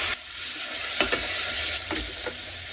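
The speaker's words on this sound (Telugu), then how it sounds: "పచ్చిమిర్చి కొంచెం ఫ్రై అయిన తర్వాత ఒక 2 మీడియం సైజ్ టమాటోస్ వేసుకోండి." Green chillies, curry leaves and tomatoes frying in a pan for masala egg biryani, giving a constant loud close sizzle with a few sharp spatters and stirring clinks, with no voices.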